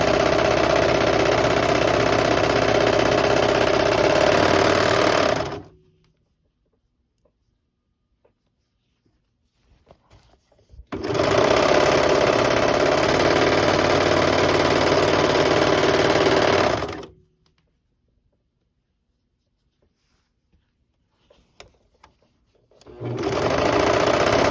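A sewing machine stitches fabric mask pieces made with hair ties, running in three loud, steady buzzing bursts of several seconds each, separated by quiet pauses with light handling clicks.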